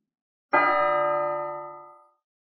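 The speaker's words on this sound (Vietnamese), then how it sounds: "Trong tháp hai sao ở đỉnh núi đột nhiên vang tiếng chuông tang thương vọng tám hướng." A single temple bell on a mountaintop strikes once, loud and clear, its bright tone ringing out and slowly fading over about a second and a half.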